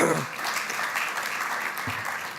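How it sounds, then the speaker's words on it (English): An audience applauds during the opening ceremony of a carbon pricing climate conference, the steady clapping filling the whole short stretch at an even, moderate level. "you can applaud that."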